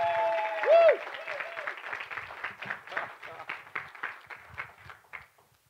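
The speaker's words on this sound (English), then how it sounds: "Now give your pastor a big clap too." A church congregation applauds at a Sunday service, steady clapping from a crowd in a hall for several seconds while a voice speaks over it near the start.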